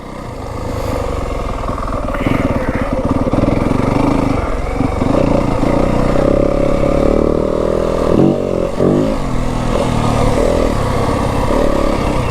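A Yamaha WR 250F dirt bike engine drones and revs close by along a Kelly Canyon single-track trail, with clattering over rough ground, and the pitch rises and falls with the throttle.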